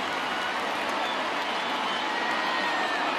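A stadium crowd of around 26,000 baseball fans in MLB The Show 20 roars steadily as they rise to their feet late in a Yankees–Orioles game, a dense, continuous wash of cheering and applause.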